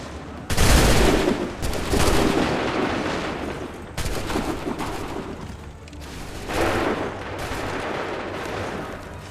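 Musket volleys from massed line infantry in Assassin's Creed 3, three loud crashing fusillades that each roll out into long reverberant rumbles, with barely any pause between them.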